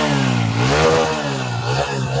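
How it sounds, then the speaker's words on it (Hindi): TVS Radeon 110cc motorcycle exhaust revved up and back down twice, close by, a throaty single-cylinder note rising and falling in pitch with no talking. "एग्जॉस्ट की क्या साउंड है वो मैं आपको सुना देता हूँ।"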